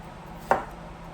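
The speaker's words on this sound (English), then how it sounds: "I'm going to get the potato chopped up." A single knife stroke chops through a potato on a cutting board, one short close thunk against quiet background noise in a home kitchen.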